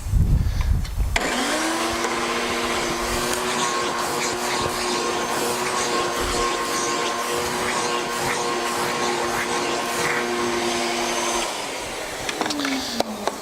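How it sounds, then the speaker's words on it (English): A vacuum cleaner cleaning a car interior drones steadily at close range for more than ten seconds, with a strong, even hum and scattered rattles of debris being sucked up. "And last step, we'll just give it a quick vacuum."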